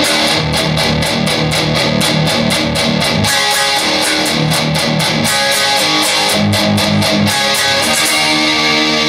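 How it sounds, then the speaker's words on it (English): Distorted electric guitar chugs out a tight, rhythmic riff of palm-muted notes that opens into ringing chords, loud and up front with no voice. "There's an overdub guitar here."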